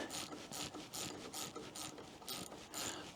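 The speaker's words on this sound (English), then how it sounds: "So my first step is to take this bolt out" A ratchet wrench backs out a bolt with quick repeated clicking strokes, about a dozen rhythmic ratcheting bursts heard close and fairly quiet, with no voices.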